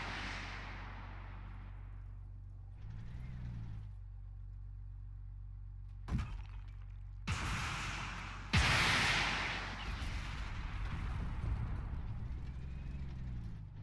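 Artillery booms in a tank video game featuring Wiesel missile carriers and a Leopard tank, a few sharp blasts around the middle followed by a heavier rumbling explosion, over a low steady engine drone.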